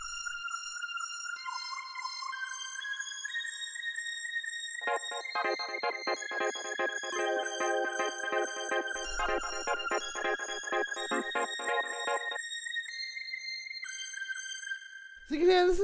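Synth strings from a Detroit house track play a sustained, gliding counter melody alone, with rich harmonic layers thickening in the middle of the passage before thinning out, ending on a sudden loud burst.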